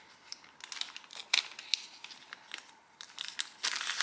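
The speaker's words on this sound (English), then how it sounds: "Let's go ahead and remove the sticker." A sticker is peeled off a Honda PCV valve, giving close, faint crinkling and tearing crackles in irregular bursts that grow louder toward the end, with no talking.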